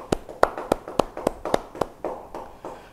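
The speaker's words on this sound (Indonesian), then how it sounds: "Yang percaya beri tepuk tangan bagi dia." Church congregation clapping during a Bible study service: about eight sharp, evenly spaced claps in a steady rhythm, then a softer, looser patter as the applause fades out.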